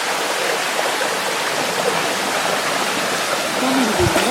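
Clear mountain river water rushing steadily over rocks outdoors, a constant broadband wash of flow that stays close and loud throughout, with a brief voice near the end.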